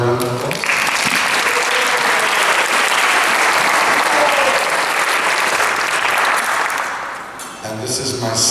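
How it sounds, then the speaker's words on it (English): Loud, sustained applause from a large audience at a kirtan in Loyola Chapel, Montreal, a dense wash of clapping that swells quickly, holds steady, then tapers off near the end. "Please give Vaishnav a round of applause"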